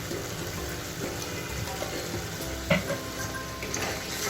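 Egg korma masala with beaten yogurt and ground spice paste sautés in a pan, giving a soft, steady sizzle with faint stirring scrapes and one louder clink.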